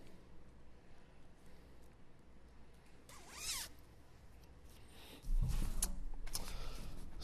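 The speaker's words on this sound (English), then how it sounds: "I'll zip it." A zipper is drawn up on a graduation gown, a brief close rasp standing out over quiet room noise, followed by louder rustling and handling.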